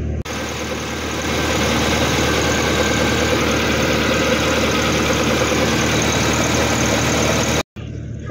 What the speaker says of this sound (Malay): Okey, kereta pun dah hidup